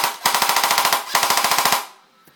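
A battery-powered M16 stubby toy gun fires two rapid bursts of about ten shots each, loud and close, separated by a brief pause, then stops.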